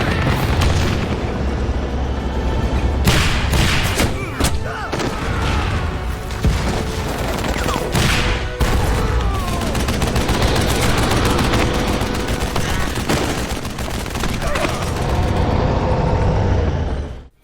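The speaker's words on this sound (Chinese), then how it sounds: "布鲁斯驾驶坦克长驱直下，橡皮子弹打得他们死去活来" A tank fires bursts of rubber bullets in a Batman film scene, rapid heavy gunfire and booming impacts rattling densely and loudly, with several sharp blasts standing out.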